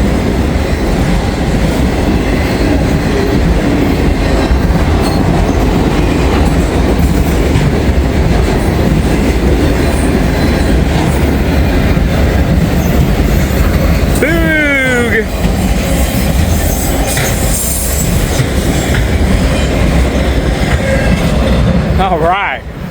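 Loud, continuous roar of a southbound train passing close by for the whole stretch, with rolling rail noise and a few brief squeals and horn-like tones near the end.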